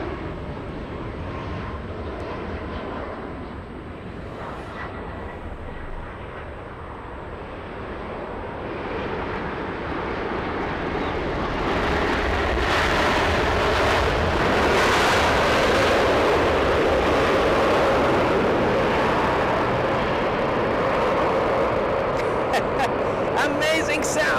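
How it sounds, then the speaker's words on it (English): A Boeing 787 Dreamliner's jet engines roar at an airport in Los Angeles, building from a distant rumble to a loud, sustained broadband thunder, with voices talking over it. "Amazing sounds from the Dreamliner"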